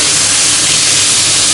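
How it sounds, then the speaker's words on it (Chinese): Squid hitting hot oil in a wok sends up a loud, sudden, continuous hiss that lasts for the whole brief moment. "鱿鱼下锅"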